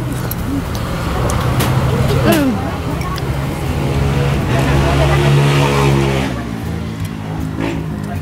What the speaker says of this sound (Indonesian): motor-motor lewat aja